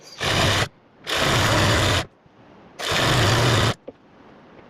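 Sewing machine stitching the fitted seams of a ladies' summer coat-suit, running in three loud, steady bursts with short quiet pauses between them.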